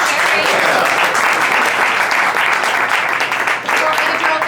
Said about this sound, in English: Everyone, give a round of applause for Adriel.